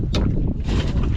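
Strong wind buffets an outdoor spot with continuous broadband rumble and microphone buffeting that swells and gusts, loud and close throughout.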